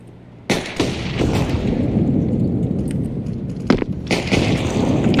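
A flashbang grenade goes off in a video game with a sudden sharp bang, followed by a dense, loud wash of noise and several further sharp reports like gunfire, close and continuous.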